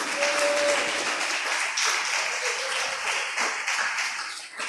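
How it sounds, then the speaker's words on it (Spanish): An audience in a Christian church talk bursts into sustained applause, a dense wash of many hands clapping that stays loud and steady before easing slightly at the end. "Dele un aplauso."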